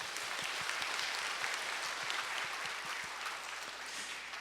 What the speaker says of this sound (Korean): 동산의 가족이 되신 분들에게 마음을 담아 박수로